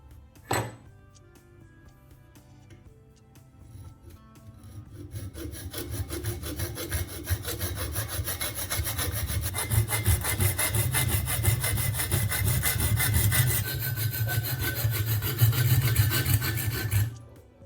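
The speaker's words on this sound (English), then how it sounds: "Use a pipe cutter or a hacksaw to cut it cleanly to size." A hacksaw cuts through a small copper tube about four inches long, with a sharp knock at the start, then steady back-and-forth rasping strokes that build louder and denser over about twelve seconds, close by and alone.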